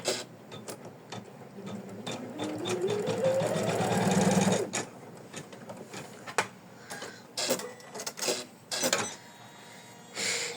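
Embroidery machine stitching a heart ornament in the hoop: a whirring run that rises in pitch, then stops, followed by scattered sharp clicks and taps from the machine, fairly quiet and close.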